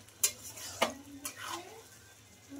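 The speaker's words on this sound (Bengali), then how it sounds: "এখন এটাকে আমি কষিয়ে নেব।" Marinated mutton stirred in a pan on a gas stove, with three crisp scraping clacks of the spoon against the pan over a faint sizzle, fairly quiet.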